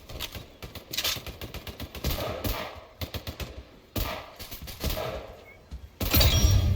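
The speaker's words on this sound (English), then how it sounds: "I've already gotten 3 kills with this gun" Gunfire from a weird gun in the Roblox video game: rapid bursts of sharp, close shots in quick rhythmic clusters with short pauses, ending in a louder heavy blast.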